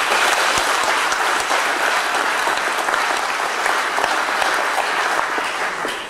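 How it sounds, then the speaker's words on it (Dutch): Sustained applause from an audience in a Dutch hall welcoming a speaker, dense steady clapping throughout that tapers slightly at the end. "Ik wil graag een heel groot applaus voor de heer Van Rossum."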